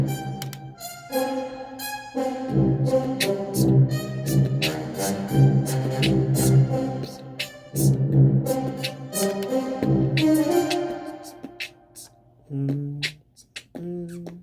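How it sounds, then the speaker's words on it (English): Layered high, middle and low horns play alone as part of a producer's beat, stacked sustained notes hitting in rhythmic stabs and swells that stay loud and close, thinning to a few short low blasts near the end. "Let me play the horns by themselves so you can hear what's really going on."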